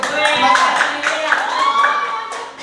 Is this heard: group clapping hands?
yes